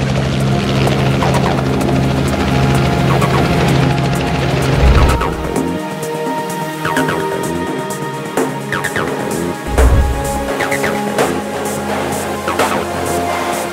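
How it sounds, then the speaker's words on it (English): A Robinson R-44 helicopter sounds loud and close with steady rotor chop and engine whine, and two brief heavy low bursts cut through it partway along. "Robinson R-44 helicopter crashed during a training flight"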